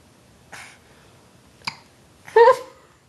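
A young child burps, with a couple of faint throaty puffs before one short, louder voiced burp near the end, close and otherwise quiet.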